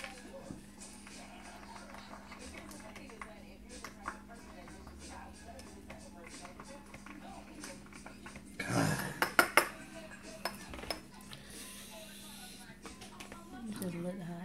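A spoon stirs a fire drink for a challenge, giving a short cluster of clinks against the cup partway through, with people talking over a steady low hum.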